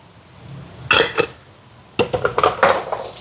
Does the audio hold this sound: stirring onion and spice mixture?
yes